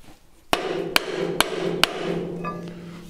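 Four light, sharp hammer taps ring out on a metal flange chuck in a workshop, evenly spaced about half a second apart, each a crisp close metallic knock over a low background hum.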